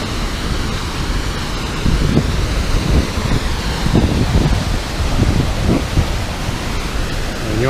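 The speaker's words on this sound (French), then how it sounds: "Voilà, une petite cascade ici." A small waterfall cascades by a river in a cypress forest at Mont Albert in Gaspésie park, Canada, giving a loud, steady broadband rush of water with no speech.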